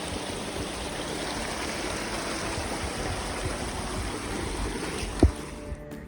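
Steady rushing of a whitewater stream beside a hiking trail in the Red Dome area, a continuous broadband flow heard close and alone, with a brief knock near the end.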